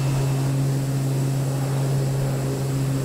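In the flight simulator game MSFS 2020, the propeller engine of an FS500 plane drones evenly throughout with a constant hum and no talking.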